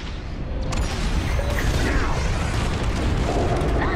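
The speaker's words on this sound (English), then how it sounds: "I just kind of dropped a bomb" A bomb detonates in the space combat game Star Wars: Squadrons, a loud, sustained booming roar with crackling and mechanical creaks filling the whole stretch, with no quiet between.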